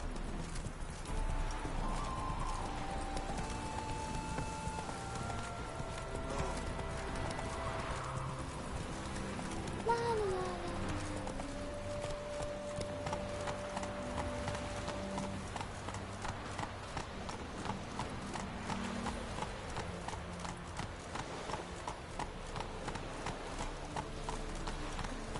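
Horse galloping in The Witcher 3, a steady rapid clip-clop of hooves running on without a break, with a short neigh about midway and a soft music bed underneath.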